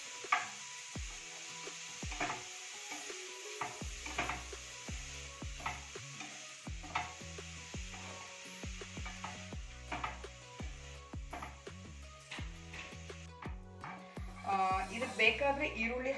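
Carrots frying in a pan for carrot rice, a soft continuous sizzle punctuated by repeated knocks and scrapes of a spoon stirring, irregular and close, with a voice talking over it.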